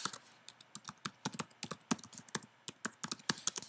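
Brisk typing on a computer keyboard, close and clear, with irregular bursts of key clicks and short pauses between them, no voices.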